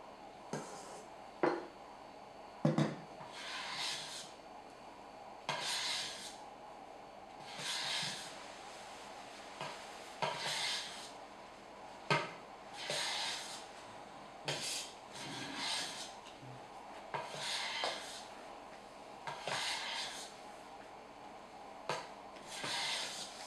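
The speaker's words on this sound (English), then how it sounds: "carefully fold it over, because we don't want to lose any of the air that we've beaten into the egg whites" Beaten egg whites being gently folded into batter with a spatula in a bowl for Salzburger Nockerl, giving a soft repeated scraping and rubbing rhythm, each stroke a brief swish, close and fairly quiet with no talking.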